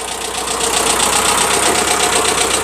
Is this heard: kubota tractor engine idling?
yes